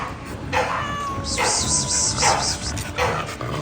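A Russian Blue cat, about twelve months old, meows a few times in drawn-out calls, loud and close, with some background chatter and noise around it.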